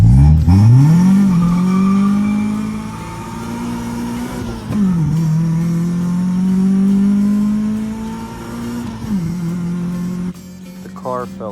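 A Honda Civic engine revs hard and climbs up toward VTEC, its loud, near tone rising and holding across several long pulls, with brief dips between them.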